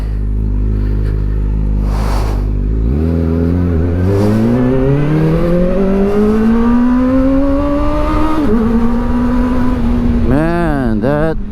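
Kawasaki Ninja ZX-4RR motorcycle with a quick shifter, ridden on a commute in Cebu, loud and close: engine revving up through rising pitch sweeps with quick gear shifts, then a final burst of sharp revs, under a rider's voice.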